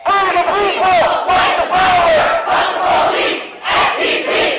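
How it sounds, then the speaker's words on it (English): Crowd of protesters chanting at police during a night-time Free Palestine march and sit-in at UMass, loud rhythmic shouted chants in repeated bursts from many voices, close and forceful. "Crowds of protesters continued to chant at police throughout the night."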